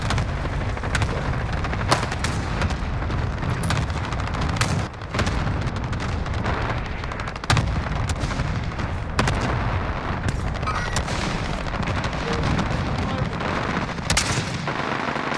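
Dense Call of Duty: Modern Warfare gunfire with repeated sharp rifle cracks and booms over a constant loud battle din, shots landing irregularly every second or two.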